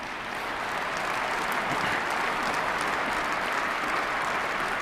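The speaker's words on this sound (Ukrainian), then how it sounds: "майже уся зала почала аплодувати" Steady applause from a large audience fills a hall during a speech, many hands clapping continuously at an even loudness throughout.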